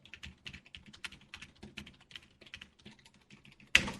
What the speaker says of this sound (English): You hating the fact that I'm typing?